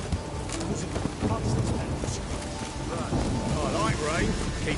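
Steady rain with low rumbling thunder in the Witcher 3 video game, a dense continuous downpour that fills the whole stretch, with speech from game characters heard over it.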